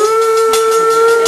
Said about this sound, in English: Mom's whistle.